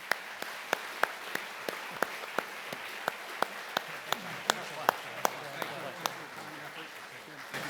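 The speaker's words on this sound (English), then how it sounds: "How about another round of applause for them?" Audience at a U.S. Naval Institute annual meeting applauds panelists, a steady wash of clapping with sharper individual claps standing out at a regular pace, moderately distant and fading slightly toward the end.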